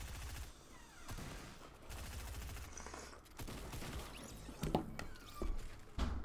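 A video game firefight: rapid bursts of gunfire that sound muffled and moderately distant, with thumps and footsteps mixed in. The sound grows busier toward the end.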